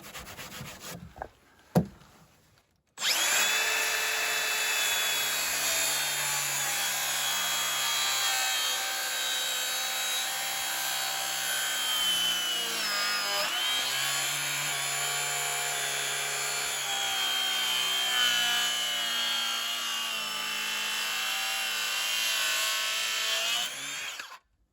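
A miter saw cuts through wooden cabin siding set at one degree past 45, a loud sustained whining buzz lasting about twenty seconds after a few brief knocks at the start.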